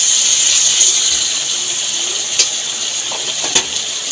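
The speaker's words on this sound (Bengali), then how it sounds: "এবার আমি পরিমাণ মতন জল দিয়ে দেবো" Water is poured into a pan of jackfruit and potato curry, raising a steady, close, bright sizzling hiss that holds for several seconds with a few small pops and no voices.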